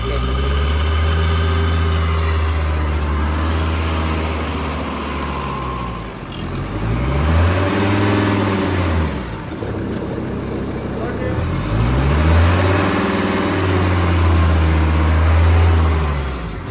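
Volkswagen Eurovan TDI diesel engine running in second gear, a steady low hum that swells and dips in long repeated rises as revs climb and fall, loud and close throughout.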